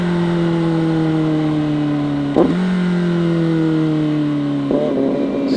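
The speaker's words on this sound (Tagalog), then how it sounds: "Isang malapitang rev match pa ulit" A CFMOTO 750SRS motorcycle engine revs steadily and loudly up close, with two sharp rev-match blips from clutch and throttle breaking the sustained drone.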